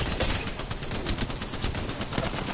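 The Spitfire gun fires in a video game in a close, loud, rapid burst of automatic shots that runs for a couple of seconds and is heard alone.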